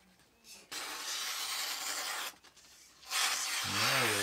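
A customised cheap bushcraft hatchet blade slices through paper in a sharpness test, making two long close rasping, tearing strokes separated by a brief pause, with a voice starting at the end.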